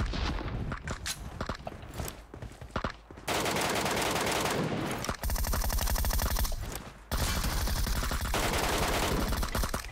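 Loud, dense automatic gunfire in PUBG Mobile, scattered close shots first, then long rapid sustained bursts broken by brief pauses, continuing almost without let-up.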